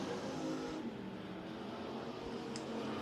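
USRA factory stock race cars run hot laps at Big O Speedway, a steady droning engine roar from cars circling out on the track at a distance, continuous and even in level.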